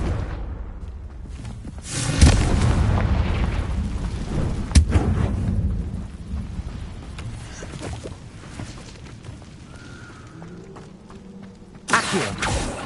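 Confringo fire spells blast in Hogwarts Legacy, with several heavy booming explosions, including sharp bursts near the start and a final loud hit, separated by rumbling, crackling decay.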